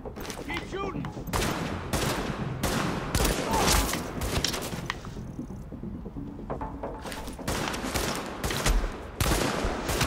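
Dense, sustained automatic gunfire fills a firefight in the video game Tom Clancy's The Division, with rapid bursts overlapping loudly and a player's voice talking over the shooting.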